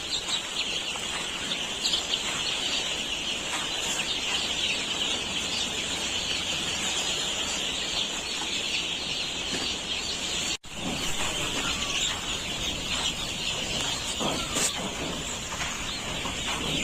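A dense, constant chorus of young chicks cheeping in a poultry farm brooder on their third day, many high peeping calls overlapping steadily throughout with no pause.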